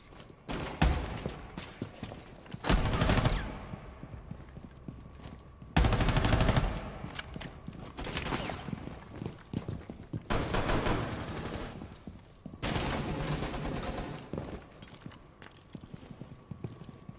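Loud bursts of automatic gunfire in the Rainbow Six Siege video game come in several clustered volleys separated by brief pauses, close and harsh throughout.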